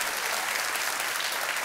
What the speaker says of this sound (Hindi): तालियों के साथ इनका हम अभिनंदन और स्वागत करते हैं।